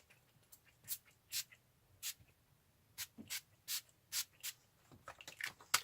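A setting and refreshing makeup spray is pumped in a series of short, soft misting spritzes, about a dozen quick bursts at irregular intervals, close and fairly quiet.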